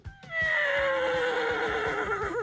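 A racehorse lets out a loud, close whinny that rises sharply and then trails down in a long shaky neigh. Faint hoof clops can be heard beneath it, and no one talks.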